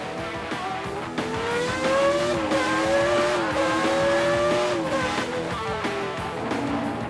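Race car engines roaring close and loud, revving hard and climbing in pitch through several gear changes, with a harsh sustained drone and some tire noise underneath.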